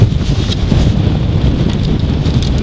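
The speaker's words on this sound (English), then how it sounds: "It's a little windy out." Strong wind blowing outdoors at an RC model plane test flight, a steady loud rumble and buffeting against the microphone with no pauses.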